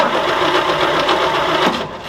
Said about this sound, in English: All right, so that's the fuel pump.